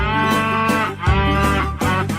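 A cow moos in a few loud, drawn-out, close bellows with short breaks between them, and no talk over them.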